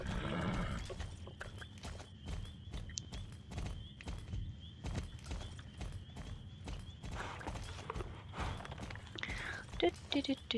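Horse hooves clip-clop in a steady run of sharp hits, with occasional neighs, at a horse market in the Star Stable Online video game. A voice talks over the sounds.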